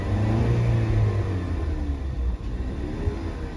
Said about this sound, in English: Okay, first I'm just going to rev it.